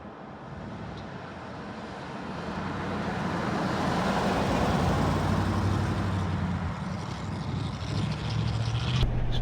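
A Willys Wagon fitted with a swapped LS V8 engine drives along, its engine note and road roar swelling steadily from moderate to loud and holding as a continuous drone from inside the cabin.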